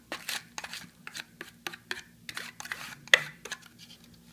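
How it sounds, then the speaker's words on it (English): Crispy Crunch cereal being stirred into a Muller Corner yogurt pot with a spoon, giving a run of short, close scraping and crunching scrapes in an uneven rhythm, with no talk. "And then you stir it up"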